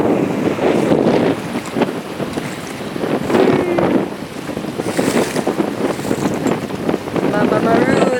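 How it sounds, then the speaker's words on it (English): A cruising sailboat heads south under sail past a point, with constant loud wind buffeting the microphone and a steady rush of water and waves along the hull throughout. "We are sailing though."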